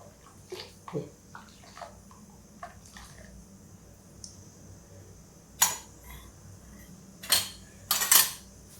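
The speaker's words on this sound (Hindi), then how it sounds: "इसके बॉयल आने तक मैं इसको चलाती रहूँगी" A spoon scraping and clinking against a pot while besan kadhi is stirred toward a boil, with scattered soft knocks and a few louder metallic clatters near the end.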